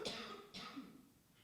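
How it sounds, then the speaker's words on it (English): Two quiet coughs, about half a second apart, with nothing else around them. "I'm going to cough."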